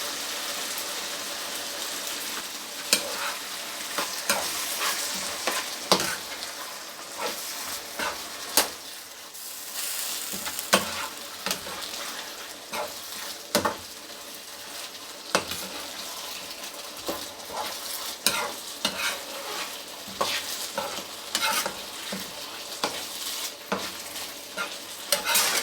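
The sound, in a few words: stirring tomato sauce into mashed potatoes on stove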